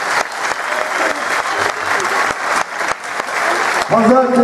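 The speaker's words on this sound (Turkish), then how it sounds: "Çok büyük bir alkış rica" Audience applause at a theatre ceremony, steady loud clapping from a crowd, with a voice starting to speak over it near the end.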